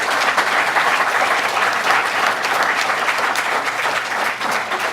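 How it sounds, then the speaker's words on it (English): An audience at a 2018 Villa Park candidate forum applauds the candidates, a steady, dense clapping held at even loudness throughout, with no one speaking over it. "Let's give our candidates a round of applause."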